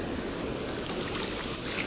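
Broad, steady rushing of river water, loud and close, a continuous hiss without breaks over two seconds.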